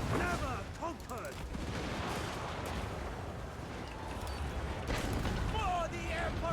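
Cannons fire during a Total War battle with Grand Cathay forces, giving dull booming blasts within a dense din of combat noise, shouting voices and clatter. Speech runs over parts of the scene.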